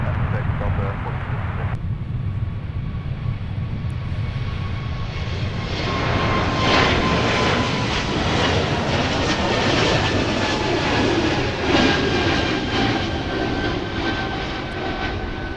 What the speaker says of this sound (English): it's Delta 2113 blasting off for Columbus